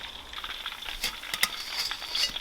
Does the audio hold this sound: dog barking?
no